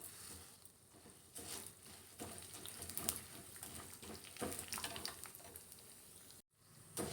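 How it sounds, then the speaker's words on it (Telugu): Toor dal frying in oil in a pan, a soft continuous sizzle and crackle with scattered pops, fairly faint and steady, cut by a brief silence near the end. "అదే ఆయిల్లో పావు కప్పు కందిపప్పు తీసుకొని ఫ్రై చేస్తున్నాను"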